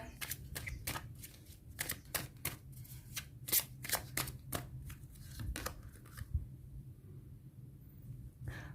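Tarot cards being shuffled up close in a steady run of crisp riffling snaps, repeated clicks through the first six seconds before the card sounds thin out and stop, with no talking.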